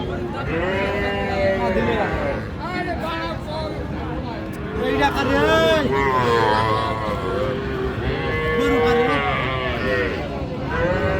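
Heifers and bull calves moo repeatedly amid the busy Aftabganj livestock market, with people bargaining over prices and a crowd murmuring throughout.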